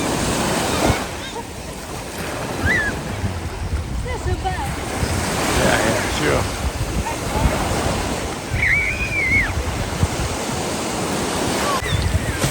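Ocean surf rolls steadily onto a seaweed-strewn beach under gusty wind buffeting the microphone, with distant voices and a brief spoken exchange faintly over the constant wash of waves.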